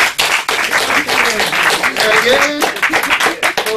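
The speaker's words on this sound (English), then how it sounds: "So, round of applause." An audience claps throughout, dense and fairly loud applause while someone speaks briefly over it.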